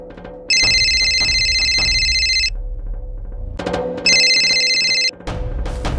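Two bursts of a loud electronic telephone bell ring at night, each lasting about two seconds with a pause between them, over a low background hum.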